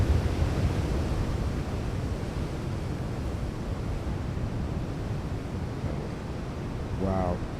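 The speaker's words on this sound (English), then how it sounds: "Just look at the power in those waves. Just cracking that iceberg." Ocean waves crash against an iceberg off the Newfoundland shore, a constant broad roar of surf and wind that stays loud throughout, with a short voice near the end.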